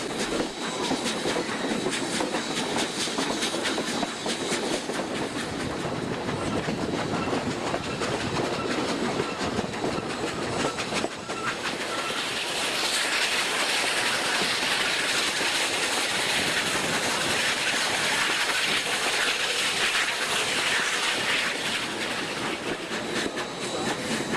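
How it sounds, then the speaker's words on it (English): Steam locomotive 1744 labors up the west-side grade of La Veta Pass in Colorado, its exhaust and rolling freight train heard at a steady moderate distance, rail clatter and wheel noise continuing throughout with no talk. "The grade up the west side of the pass becomes evident by the sound of the 1744's exhaust."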